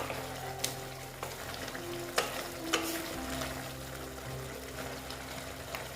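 Drumstick-stem chorchori with mustard and poppy-seed paste sizzles softly as it cooks down in a pan, with occasional stirring scrapes and small pops over a steady low fry.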